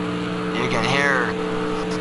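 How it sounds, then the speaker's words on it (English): Race car engine at Daytona held against its rev limiter, a loud sustained high-pitched drone with rapid stuttering pulses and pitch warbling, close and continuous for the whole moment. "rev limiter on Shuja Hunt's car all the way at the max"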